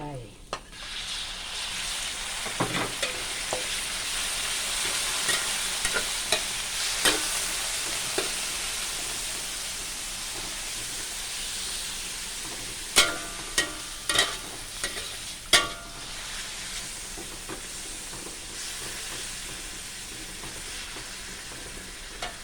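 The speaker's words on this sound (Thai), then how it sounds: "เจียวกระเทียมให้หอม แล้วก็ใส่หมูลงไป" Pork and garlic stir-frying in a pan for a broccoli and cabbage dish, a steady loud sizzle running throughout with scattered sharp scrapes and clanks of the spatula against the pan.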